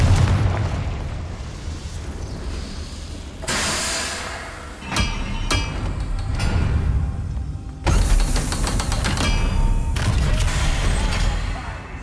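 Spell explosions from Incendio and Confringo in Hogwarts Legacy: repeated loud booming blasts with sharp bursts and crackling debris, several impacts spaced across the clip over a dense rumbling game soundscape.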